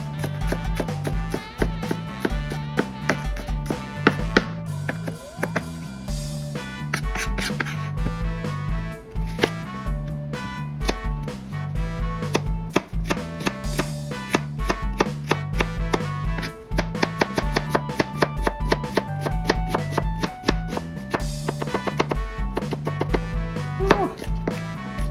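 Onions are chopped with a knife on a board in quick, rhythmic strokes that repeat steadily for a long stretch at close range, with a few pauses where the cutting briefly stops.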